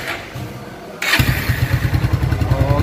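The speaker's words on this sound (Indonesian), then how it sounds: "Oke, mesinnya sudah menyala." Kawasaki W175 TR motorcycle engine cranks and fires up about a second in, settling into a loud, steady, thumping single-cylinder idle close to the microphone.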